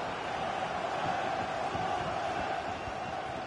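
Stadium crowd in the FIFA 23 video game, a steady, dense roar of many voices holding at an even level throughout, no single voice standing out.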